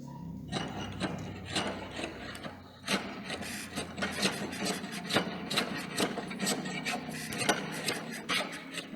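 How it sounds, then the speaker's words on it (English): A metal jack plane shaves along a wooden bar in a carpentry shop, repeated rasping strokes in a steady rhythm, fairly close and moderately quiet, with no talking. "Finishing of this side or planing of this side is done again with the help of metal jack planer"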